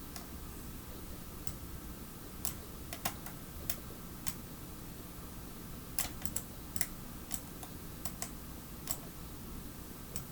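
Keys tapped on a computer keyboard during 3D character design work, with light clicks landing in small irregular clusters over a steady hum, quiet and close, no talking.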